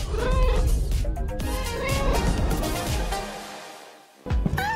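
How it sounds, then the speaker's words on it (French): A small kitten meowing several times in quick succession, close and fairly loud, with a few high, wavering cries and a short quiet gap before a final burst. "Un mignon petit chaton qui vit dans un arbre."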